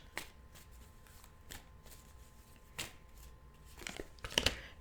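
Tarot cards being shuffled by hand make quick papery riffles and flicks in short bursts, with a louder rapid burst near the end, close up and quiet with no talk.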